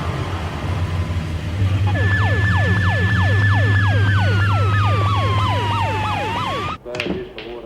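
An ambulance siren wails in a rapid repeating yelp over a low engine rumble, loud and close, ending with a couple of thumps.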